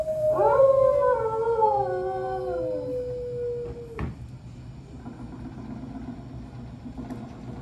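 An animatronic dog howls in Disney's Carousel of Progress show at Magic Kingdom, a long wavering howl that slides downward for about three seconds, then a sharp knock and quieter show background.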